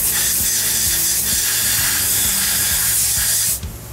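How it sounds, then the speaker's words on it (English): Compressed air hisses loudly and steadily as the spindle of a Citizen Swiss lathe is blown out, with faint machine clatter underneath, before the blast cuts off near the end. "We're gonna blow out the spindle"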